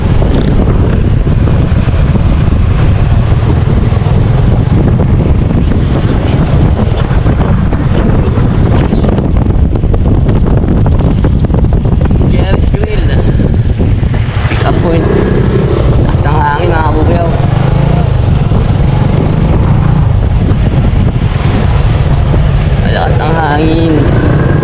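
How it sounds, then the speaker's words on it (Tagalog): Steady, loud wind buffeting the microphone throughout, with a vehicle engine rumbling underneath and occasional voices. "Hangin."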